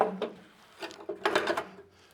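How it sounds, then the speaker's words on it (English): A metal scribe scratches a cut line across 1965 Thunderbird sheet metal at the front apron, giving several short, close raspy strokes in bursts. "Now I'm going to scribe it off with my scribe."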